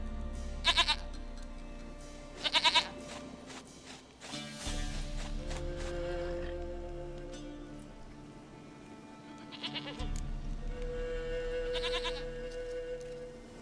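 A goat bleats several times in The Witcher 3: Wild Hunt, two loud wavering calls early and two more later, heard over quiet ambient game music and soft footsteps.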